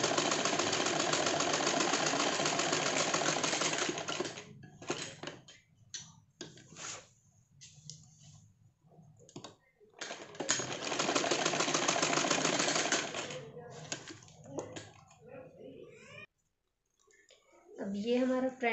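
A sewing machine stitching a cushion cover runs in a long steady whir, then stops and starts in short bursts, with a voice speaking between runs and a final brief burst.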